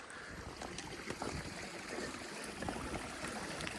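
A small mountain stream in the High Uintas babbles and trickles steadily at a trail crossing, with a continuous close, fairly soft rush of water.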